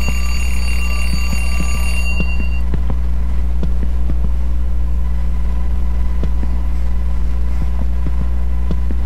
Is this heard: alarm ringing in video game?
yes